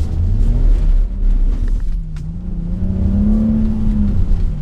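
A BMW X3 M40i SUV accelerates off-road through a sharp turn. The engine hums low, then rises in a steady, loud rev that climbs and swells over a few seconds, with faint road and tyre noise underneath.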